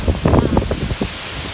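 Strong gusting wind buffeting an outdoor microphone on a very windy day while fruit trees are being planted, loud rumbling bursts over a constant hiss.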